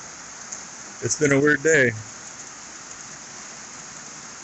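Steady rain hisses down over a cattle farm where calves are kept, a constant wash of drops that continues while someone briefly speaks near the start.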